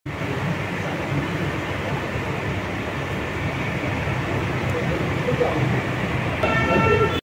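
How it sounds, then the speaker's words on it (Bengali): A Kolkata Metro train on the Sealdah–Sector V line sounds a steady horn over loud, continuous rumble and rail noise at a station junction, with a stacked tonal blast rising near the end. "সিগন্যাল দিচ্ছে ট্রেনটা।"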